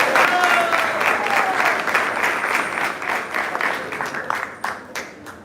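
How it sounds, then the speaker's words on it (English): A gathering applauds for a speaker at a spiritual talk, a full burst of many hands clapping that thins into scattered individual claps toward the end, with a few voices mixed in. "Please give her a big round of applause."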